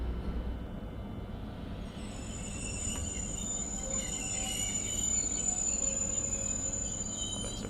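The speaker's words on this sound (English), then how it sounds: "it's a really, really good sounding train" A Vectron BR 193 electric locomotive runs in Train Sim World 4, a steady rumbling hum and rolling wheel noise with a faint high whine layered over it, continuous and unbroken with no talk.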